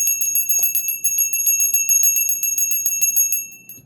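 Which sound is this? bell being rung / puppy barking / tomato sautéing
bell being rung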